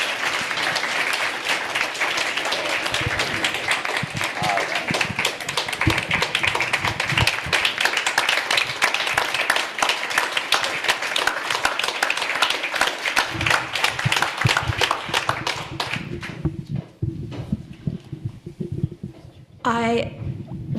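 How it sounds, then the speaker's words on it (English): Audience applause fills a hall during a conversation event on theological education, dense steady clapping running loud for most of the stretch before thinning out, with voices mixed in underneath. "Let's clap for Wilson, first of all."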